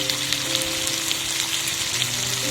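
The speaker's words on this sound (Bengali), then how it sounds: "দিয়ে আলুটাকে ভালো করে কষিয়ে নেব" Potatoes with salt and sugar sauté in hot oil in a pan for an egg curry, giving a close, continuous sizzle with crackles and pops throughout and a faint steady hum underneath.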